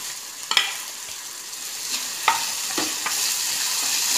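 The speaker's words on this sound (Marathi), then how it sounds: "हे चांगलं कांदा परतून घ्यायचा." Onions, curry leaves and chillies sizzle in a hot pan for Marathi-style masala upma, with a steady frying hiss broken by a few sharp scrapes and clatters of stirring, close and alone with no speech.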